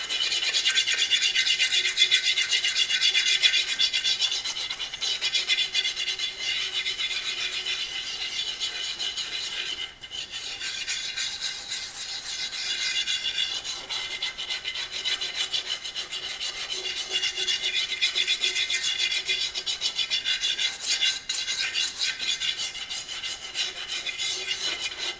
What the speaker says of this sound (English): I'm going to take this bit of soapstone and load up this sandpaper